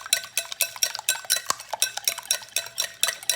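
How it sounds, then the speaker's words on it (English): A whisk beating a sweet potato pudding mixture in a bowl, giving quick rhythmic clinking and scraping strokes in a fast steady pattern, close and clear with no talking. "Just give them a whisk, whisk, whisk,"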